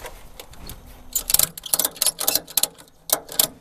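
A tie-down strap being ratcheted tight on a Harley motorcycle loaded in a pickup truck, with a series of quick, close mechanical clicks and rasps that come in irregular bursts.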